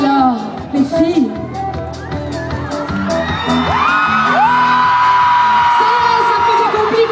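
An enthusiastic concert crowd at the Nuits de Fourvière festival yells, whoops and screams loudly and continuously, with music ringing through the dense, sustained roar.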